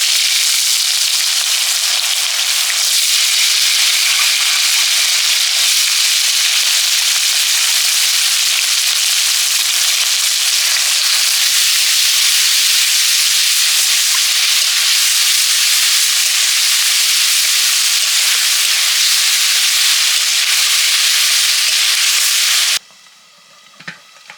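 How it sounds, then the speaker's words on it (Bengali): Chopped onions frying in hot oil in a kadai (wok) at the start of a home-cooked chicken curry, a loud, steady, close sizzling hiss that runs unbroken for over twenty seconds before abruptly dropping away. "পেঁয়াজ দিয়ে দিলাম"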